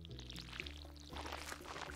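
A watering can pouring onto ground in the farming game Stardew Valley, a short soft splashing pour under a bright plucked game melody, quiet overall.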